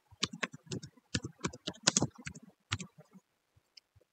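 Close, clear keystrokes come in quick irregular runs as router configuration commands are typed on a computer keyboard, then thin out into a few isolated taps before falling silent.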